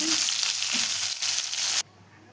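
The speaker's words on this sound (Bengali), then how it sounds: "ফুলকপি ভাজা হয়ে গেছে" Cauliflower pieces frying in hot oil, a loud continuous close sizzle that cuts off abruptly near the end, leaving near silence.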